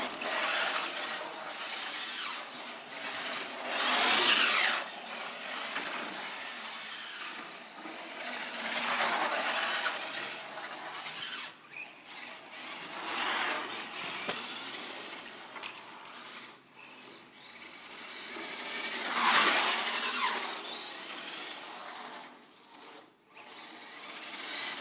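An RC Porsche Cayenne toy car drifts with a whirring electric motor and tyre scuffing, rising and falling in several surges over a continuous mechanical hum.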